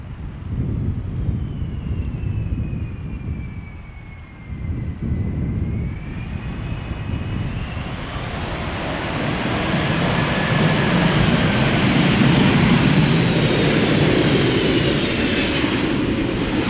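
An 18-year-old airliner arriving from Atlanta at Amsterdam Schiphol Airport in humid air, its engine roar loud and steady and building as it draws nearer, with some wind noise on the microphone.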